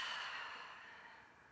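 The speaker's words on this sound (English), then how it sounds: "full breath out." A single long, soft exhale follows a deep breath in, airy and close, gradually fading over about a second and a half with no other sounds around it.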